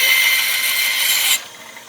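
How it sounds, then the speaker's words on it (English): A bandsaw cuts a piece of wood in half, producing a loud, steady high-pitched whirring cut that ends abruptly after about a second and a half, leaving a quieter running hum. "It's a little wide to fit into the blade of the bandsaw, so I'll just quickly cut it in half."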